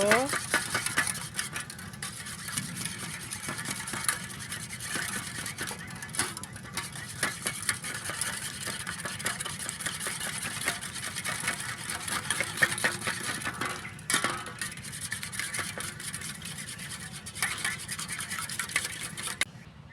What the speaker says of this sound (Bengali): হালকা একটু লবণ দিয়ে ডিম তিনটা ভালো করে ফেটিয়ে নেব